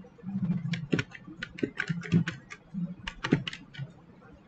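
Bursts of computer keyboard typing, brisk irregular keystrokes entering a search query, close and clear, with a faint low hum beneath and no talking.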